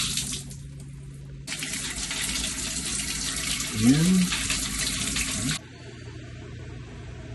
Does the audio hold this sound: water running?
yes